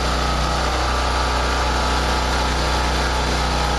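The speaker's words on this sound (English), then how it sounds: "It sounds like it's running out of gas now." A snowblower's small gas engine runs loud and close, holding a steady, even drone for the whole stretch with no clear sputter or drop in speed.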